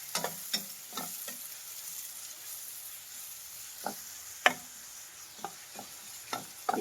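Finely chopped onions frying in hot oil, a faint soft sizzle broken by several sharp stirring scrapes and clinks of a spoon against the pan, fairly quiet throughout.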